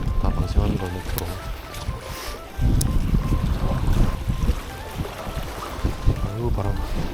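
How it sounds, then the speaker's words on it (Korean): Strong wind buffets the microphone at sea during evening rockfish fishing off Ulsan in a gale, a steady low roar with gusts and water movement, while a voice speaks over it. "아이고 바람."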